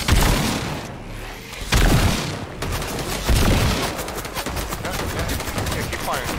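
Fireworks in a fort-style battle set off rapid cracks and bangs, with dense bursts of sharp reports and booming thumps over a noisy background.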